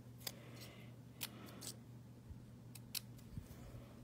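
Scissors snip paper for card making in a few faint, sparse cuts over a quiet room hum, with small handling sounds between the crisp snips.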